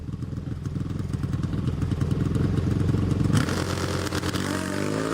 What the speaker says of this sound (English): They'll get it up on the rev limiter.